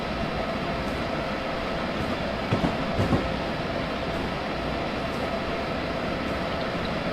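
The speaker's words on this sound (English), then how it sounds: "Looks like the train is pushing itself back a little bit." A train in Train Simulator 2015 runs with a constant loud rumbling roar and faint rhythmic rail clicks, steady throughout with a couple of brief clunks midway.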